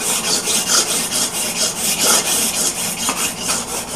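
Scraping wood with a hand scraper in a wood shop, loud close rasping strokes repeating in a steady back-and-forth rhythm, with no talking.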